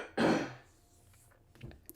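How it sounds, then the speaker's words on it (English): Dry cough and throat clearing burst out loud near the start, then fade into quiet room noise with a few small clicks and short rustles toward the end. "Again, sorry about all the coughs"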